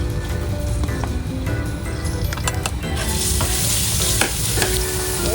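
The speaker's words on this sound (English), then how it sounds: "1 ladle of the oil, and then put in the garlic first" Garlic fries in a ladle of hot oil for Nyonya curry laksa, a loud, dense, continuous crackling sizzle that rises brighter toward the end.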